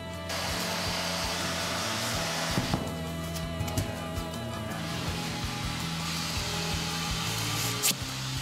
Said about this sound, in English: Just use the heat gun.